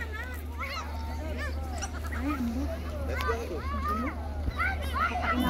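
Ducks or geese draw steadily nearer at a seaside campsite, repeated quacking and honking calls rising over a constant low hum with faint background voices.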